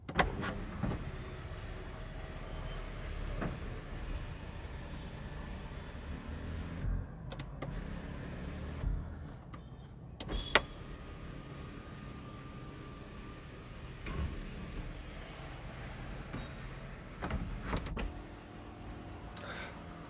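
Panoramic sunroof on a Maruti Grand Vitara SUV, a faint electric motor whirring as the glass panel slides open inside the quiet cabin, with a few soft clicks and thumps along the way.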